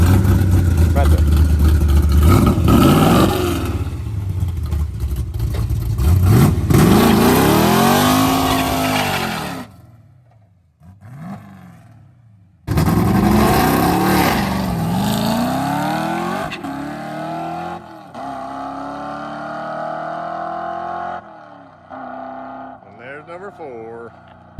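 Plymouth Barracuda race car doing a burnout and drag run at a no-name nationals event in Sikeston, loud roaring engine revs with tire squeal, a sudden cutoff, then another hard, rising acceleration pulling away into the distance.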